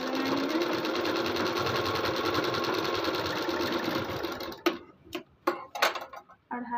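An electric sewing machine runs a continuous rapid stitching drone while sewing the lining of a suit, then stops around two-thirds through, leaving a few short bursts and clicks of handling.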